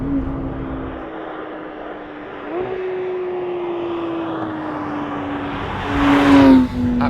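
Porsche 911 992 GT3 with manual gearbox at full throttle in second gear, a sustained droning engine note rising slowly in pitch, swelling louder near the end, heard from inside the car.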